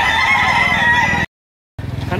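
A rooster or chicken, close and loud, making harsh clucking and crowing calls that cut out briefly to silence, then resume with rapid rhythmic clucks.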